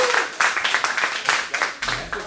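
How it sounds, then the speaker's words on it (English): A comedy club audience at an improv show bursts into continuous applause and cheering, many hands clapping in a dense, close wash with voices rising through it. "And I'll clap and cheer if you want to see us do a romantic comedy."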